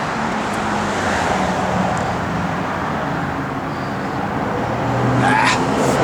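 A 1970 Ford Mustang Mach 1 with a billet distributor drives nearby, its engine a steady low rumble that swells slightly near the end, amid outdoor road noise.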